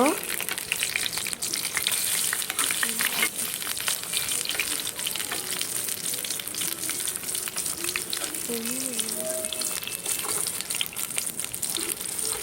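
Chal kumra (ash gourd) leaves fry in oil in a pan in a village kitchen, giving a continuous crackling sizzle with scattered pops and faint background sounds.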